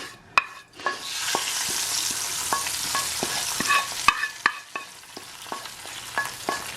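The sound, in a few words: stirring dal with fried tempering and tomato mix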